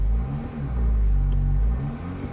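A 280 hp Alfa Romeo Tonale plug-in hybrid, 2023 model, revs its engine with ESC switched off, producing a loud, low rumbling drone that swells, holds steady, then eases off near the end.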